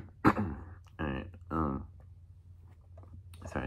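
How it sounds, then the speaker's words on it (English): A person clears their throat with a sharp rasping burst, then a few shorter throaty rumbles follow close to the microphone in a quiet room. "sorry, I had to clear my throat there."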